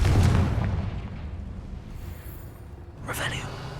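A Confringo fire spell is cast in the Hogwarts Legacy video game, opening with a deep rumbling boom that fades, then a sharper burst near the end.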